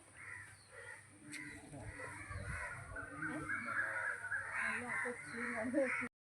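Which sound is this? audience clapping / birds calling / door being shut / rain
birds calling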